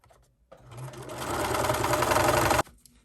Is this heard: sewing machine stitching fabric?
yes